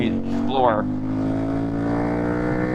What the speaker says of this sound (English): Okay, so that was the rev limiter there of second gear.